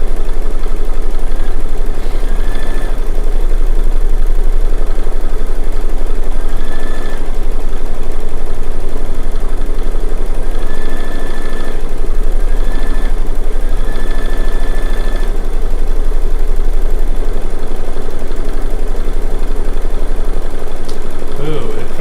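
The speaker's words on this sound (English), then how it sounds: "That's what it's stitching out right now, is this right here." An embroidery sewing machine stitching a quilt flower design produces a loud, steady mechanical whir with a constant low hum, with no break across the whole stretch.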